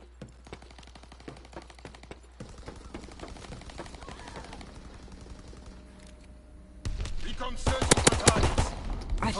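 Gunfire in a WW2 video game, with sparse quiet shots at first and then a loud, dense burst of rapid shooting near the end.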